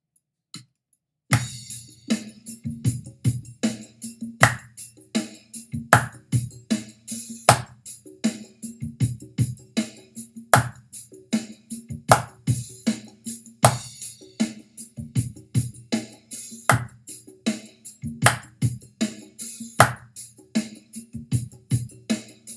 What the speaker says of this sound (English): First thing that we're going to do is we're going to clap our opening rhythms.